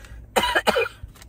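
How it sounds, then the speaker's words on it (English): A single short cough, two quick close bursts followed by a faint breath, heard alone in a quiet space. "little bit of cough"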